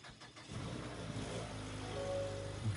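A 2023 Mazda CX-50 2.5 S Premium Plus engine starts up close: a brief crank after half a second, then the engine catches and settles into a steady, fairly loud running hum.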